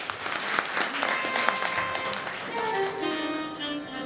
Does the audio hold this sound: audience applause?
yes